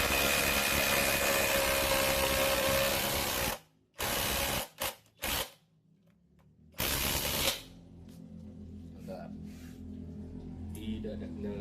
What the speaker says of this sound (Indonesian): Jadi sepertinya untuk cordless impact driver dari Flex ini, apabila kita gunakan untuk pekerjaan-pekerjaan ringan